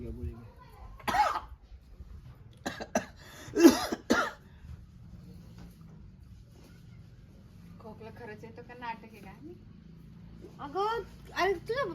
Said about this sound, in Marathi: खोकला आहे